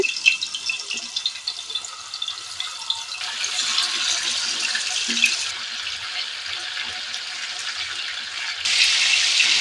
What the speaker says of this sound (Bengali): আমি ভালোভাবে এপিট ওপিট করে মাংসগুলোকে ভেজে নিচ্ছি